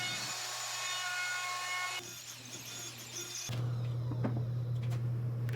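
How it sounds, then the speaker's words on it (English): A router fitted with a 1/4 inch round-over bit runs along the square edge of a solid surface countertop for a bathroom vanity. It gives a steady motor whine and hum that shifts in tone between a few short passes, with no speech. "I'm using a 1/4 inch rounded over bit in my router to take off the square edge."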